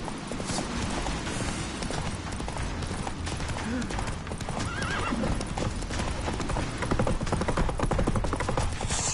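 Roach the horse gallops hard in The Witcher 3, hoofbeats pounding in fast clip-clop rhythm with a whinny and neighing over a busy game soundscape, while voices speak in between.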